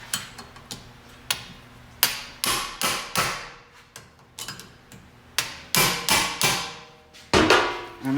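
Hammer blows strike a manual impact driver to loosen stuck brake screws on a Honda CR-V, a dozen or so sharp metallic knocks at an uneven pace, close and loud, each ringing briefly.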